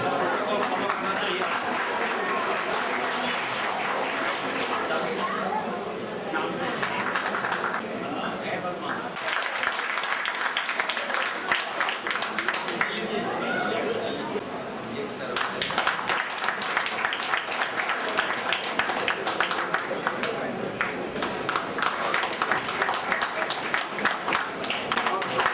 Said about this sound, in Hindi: ताली बजाओ भाई, हिंदी में ताली बजाओ।